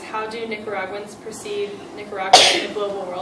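A single sharp sneeze bursts out near the end of a conversation, loud and close, following a stretch of a person talking.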